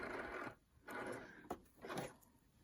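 A home sewing machine running on a basting stitch to sew in a standard zip hums in three short bursts separated by pauses, close and fairly quiet.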